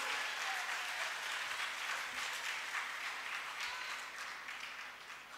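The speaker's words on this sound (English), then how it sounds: "We all must give a big round of applause to every one of them." Applause from parents and guests at a kindergarten graduation ceremony in a school hall, continuous crowd clapping that is fairly faint and distant, slowly tapering off toward the end.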